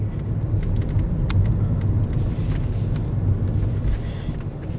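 A car rolls slowly while backing up, giving a steady low road rumble with faint clicks and light wind noise and no talking.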